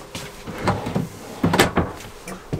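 Drawers on a dresser in a 2023 Flagstaff Classic 529RLBS RV slide and thud several times in quick succession, close by, with no talking.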